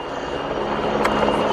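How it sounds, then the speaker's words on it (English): A PZL Sokol medium twin-engine multi-purpose helicopter flies at an air show, a steady broadband engine and rotor roar heard at some distance, even and unbroken. "It's a medium-sized twin-engine multi-purpose helicopter designed and manufactured by Polish helicopter company PZL Swidnik"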